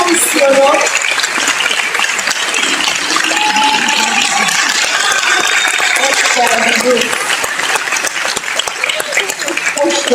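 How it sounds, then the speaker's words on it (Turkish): Loud, sustained audience applause at an awards night fills the whole stretch, dense clapping from a large crowd with cheers mixed in. "Çok büyük alkış istiyorum."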